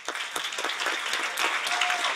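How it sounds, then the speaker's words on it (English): Audience applause at a plenary session on skills, a brief burst of many hands clapping, steady and fairly close. "Applause."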